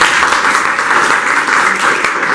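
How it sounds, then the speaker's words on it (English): Loud, dense applause for a business school head being introduced on a Brexit panel, a continuous close wash of many clapping hands with no gaps. "please, a round of applause for him,"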